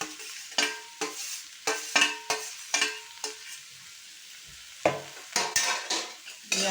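A utensil stirs fried bitter gourd and eggplant in a pan for Bengali shukto, giving repeated scraping strokes with short pauses over a soft sizzle, close and moderately loud.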